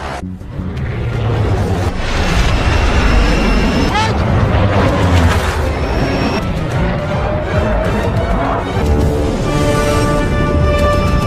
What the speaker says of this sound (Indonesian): Brown dan Hartner bertempur dengan pesawat milik lawan, sementara yang lain menyerang jembatan.